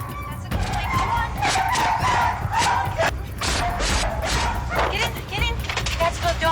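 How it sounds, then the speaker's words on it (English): A dog barks repeatedly and yelps amid the rush of a wildfire evacuation by police, close and agitated over a constant roar of background noise, with people talking through it. "That's the dog."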